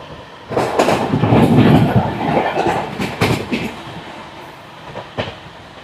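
Ramnagar Dehradun Express train running on the rails, a loud, close rumble with rhythmic clickety-clack of wheels over rail joints and sharp intermittent clanks, steady throughout with no talk.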